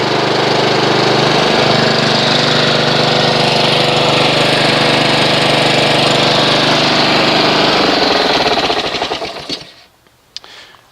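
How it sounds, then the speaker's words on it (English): A Honda HRX217HYA lawn mower engine runs close and loud at a steady, buzzing pace for several seconds, then is shut off and winds down into near silence. "I'm going to go ahead and run the engine, get the engine up to operating temperature."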